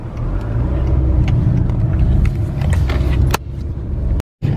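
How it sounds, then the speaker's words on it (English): Cars on a road pass near a stopped vehicle waiting to pull out by a country store, a steady loud rumble of traffic with engine noise that drops away near the end. "We're waiting for traffic."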